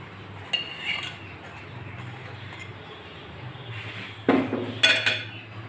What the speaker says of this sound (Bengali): আমি একটা প্লেটে তুলে নিচ্ছি